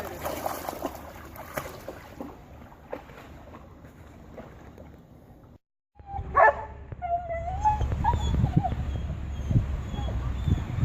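A worried dog whimpers during a flood rescue by boat, thin high whines rising over water and engine noise, with people talking nearby.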